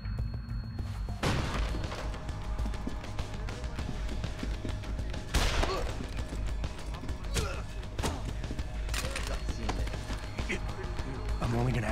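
Gunfire in the video game Deus Ex: Human Revolution: several sharp, loud shots at irregular intervals, some close and some farther off, over a steady game background with voices mixed in.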